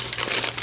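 A small brown paper sack is handled close up, giving a brief burst of dry crinkling and rustling.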